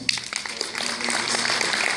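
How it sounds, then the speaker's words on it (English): An audience claps throughout a short burst of applause at a domestic violence awareness event, and the clapping holds steady to the end of the clip. "Give her a round of applause."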